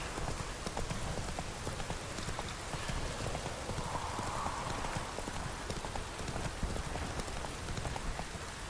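Hooves of Roach, Geralt's horse in The Witcher 3, clip-clop steadily through falling rain, a continuous patter of drops mixed with the rhythmic footfalls throughout, no voices.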